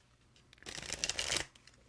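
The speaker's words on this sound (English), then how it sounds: "Judith, I'm shuffling for you right this moment." A deck of tarot cards is shuffled once in a quick riffle, a close, crisp burst of flapping card edges lasting about a second amid quiet.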